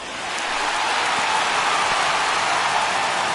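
A baseball stadium crowd of over 39,000 on their feet, cheering and applauding as a loud, dense, continuous wash of noise that swells in quickly and holds steady.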